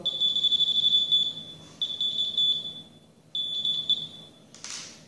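A ThruScan DX handheld metal detector sounding its high-pitched alarm over a small lead piece: a steady shrill tone in three bursts with short gaps, fairly quiet against a light background hiss.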